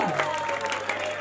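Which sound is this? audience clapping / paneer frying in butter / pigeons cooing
audience clapping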